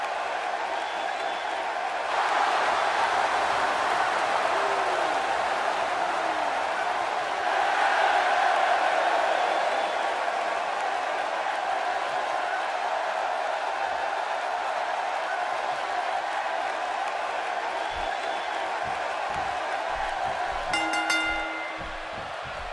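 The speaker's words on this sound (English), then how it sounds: "Based on the electricity that's traveling through this arena and decibel level of the crowd, I think it's safe to say the roof of this building just might blow off." A wrestling arena crowd in WWE 2K17 roaring steadily for a one-on-one match, a dense sustained wash of cheering that swells a little and holds, with a commentator's voice over it.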